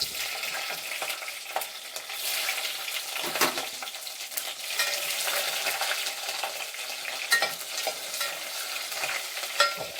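Green chilies frying in an oil-filled pan, a steady soft sizzle broken by occasional scraping stirs, faint and close with no voices.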